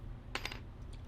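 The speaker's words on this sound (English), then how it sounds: "rolling the dice." A few quick clicks of dice rolling on a tabletop during a Transformers trading card game, brief and faint against a quiet low hum.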